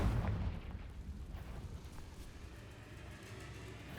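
The Confringo explosive spell in Hogwarts Legacy goes off with a short, muffled boom at the start that fades into a low rumbling tail, fairly quiet overall.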